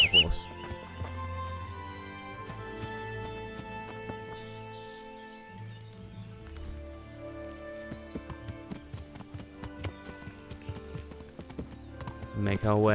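A horse in the medieval game Kingdom Come: Deliverance, hoofbeats clip-clopping rhythmically and fairly close, mixed with game music and ambient sounds, with some talk over it.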